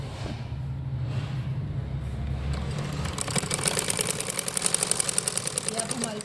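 A sewing machine stitches the seam of an umbrella frock, starting with a low hum and settling into a fast, regular mechanical clatter of close, even stitching pulses.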